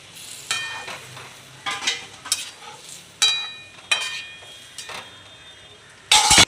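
Hilsa cooks in mustard sauce with water added to the pan, giving a soft, steady sizzle broken by several sharp clinks and scrapes of a utensil against the pan and a loud burst near the end.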